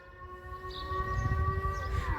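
A civil defense test siren in the Netherlands, sounding at noon, wails with a steady rising tone at moderate distance over low rumbling background noise.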